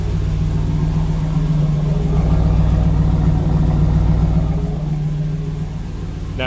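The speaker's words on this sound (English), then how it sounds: "let me turn off the engine." A 1992 Chevrolet Camaro Z28 engine with a hard-start, stalling and rough-idle problem idles steadily, a loud, close, continuous rumble with no talking.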